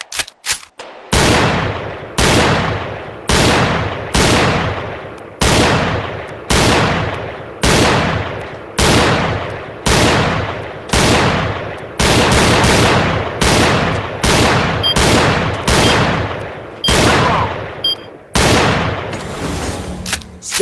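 Loud, evenly spaced single gunshots at a virtual shooting range in a VR gun game, each sharp crack followed by a short decay, continuing steadily for about twenty seconds with a few faster doubles near the end.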